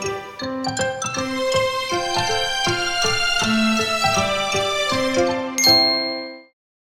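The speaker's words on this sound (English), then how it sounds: "Can you hear the bell?" A ringing bell in a children's song plays as a quick, bright run of chiming dings forming a melody, steady and close, ending on a sustained ring that fades out.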